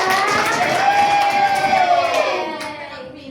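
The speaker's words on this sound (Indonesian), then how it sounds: "Tepuk tangan untuk Desi ya." Schoolchildren in an Indonesian classroom clap for their classmate Desi, loud close mixed clapping and cheering voices with a sung or called tone over it, tapering off after a few seconds.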